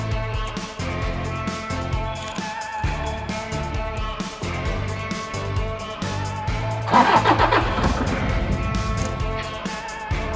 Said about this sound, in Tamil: வண்டி ஸ்டார்ட் பண்ணிட்டேன். வண்டி சவுண்டு பாருங்கள்